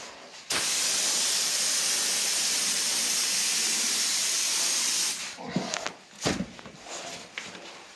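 A spray gun blasting paint onto a rusty Toyota Glanza, a loud continuous hiss held for several seconds before cutting off into clunks and shuffling.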